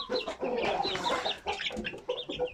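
A flock of chickens and chicks on a farm cluck and cheep continuously, a busy chorus of short calls nearby at moderate volume with no talking.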